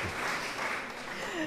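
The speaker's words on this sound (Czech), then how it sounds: "Zpívala jsi dobře, tak ještě jeden potlesk pro tebe." An audience in a radio studio claps for a young girl singer after her song with a folk bagpipe band, a short burst of steady applause at moderate distance.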